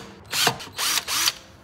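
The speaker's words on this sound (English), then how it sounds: "So I think we're just gonna drill them because it's, I don't know, a plastic piece or 20 plastic pieces." A power drill bores into plastic wheel caps for an Audi S4 wheel setup, three short whining bursts, each rising and falling in pitch, close and loud with brief pauses between.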